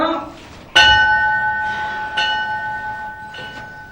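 A hanging bell is struck at a pandit's temple, ringing out with a sharp metallic strike and a lingering tone, then a second lighter strike and further faint rings beneath a comedy skit's background.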